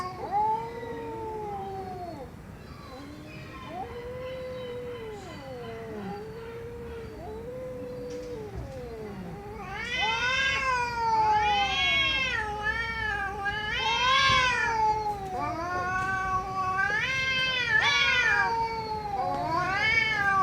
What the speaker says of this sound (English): They're just like yowling each other's faces.